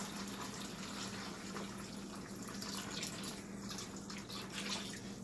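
Cold water runs from a tap during a watercolour session, a faint steady splashing stream that continues alone throughout.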